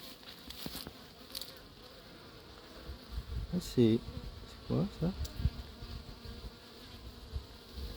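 Honeybees swarming a wasp at the hive entrance of an apiary, a close buzzing drone with sharp louder whirring bursts as insects fly past, with a brief spoken question.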